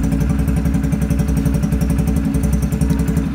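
A washed Hero Splendor motorcycle engine runs steadily close by, a loud continuous idle with a fast, even low thumping pulse and no voices over it.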